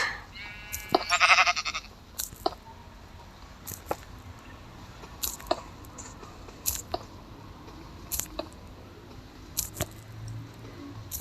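A Minecraft sheep bleats once, a short wavering electronic-sounding bleat, followed by scattered sharp clicks and taps of block and gameplay effects over quiet background.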